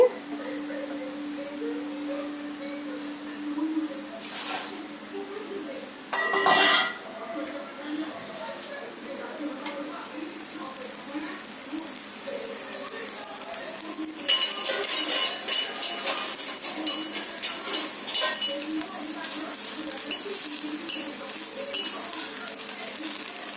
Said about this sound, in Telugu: ముందుగా స్టవ్ వెలిగించుకొని ఒక బాండి పెట్టుకొని పచ్చిమిరపకాయలను వేయించుకుందామండి